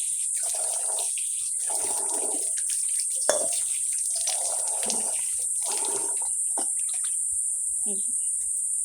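Water splashes and pours in repeated bursts as scrubbed puja utensils are rinsed, the gushes starting and stopping in an uneven rhythm close by, with a constant high electrical whine running underneath.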